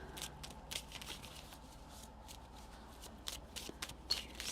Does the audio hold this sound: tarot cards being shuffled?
yes